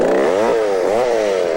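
A saw works steadily through wood beside a house during community-service chores, giving a continuous harsh buzzing drone that rises and falls in pitch with each stroke, loud and close with no voices.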